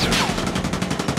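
Rapid automatic gunfire in Call of Duty Mobile, a fast regular burst of about a dozen loud, close shots over a little more than a second.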